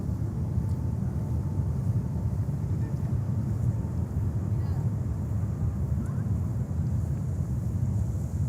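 A Viva Air Airbus A320neo bound for Mexico City departing JFK, a steady broad low jet roar heard from a distance with wind buffeting the microphone and a voice talking over it.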